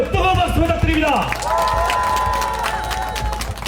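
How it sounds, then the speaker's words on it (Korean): Audience applause and cheering from a crowd at an outdoor campaign rally at Yonsei University's Sinchon Star Plaza, a steady, dense clatter lasting throughout with a voice or tonal sounds rising above it. "뜨거운 박수 부탁드립니다."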